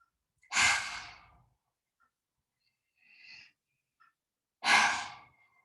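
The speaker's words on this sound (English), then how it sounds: "take 3 deep breaths in through our nose and out through our mouth. Just exhale out through your mouth" Two deep, breathy exhalations through the mouth, near and calm, with a faint softer breath between them during a guided yoga relaxation, no talking over them.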